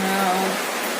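Rain pours in a constant broadband wash, loud and close, with a faint tonal hum running underneath.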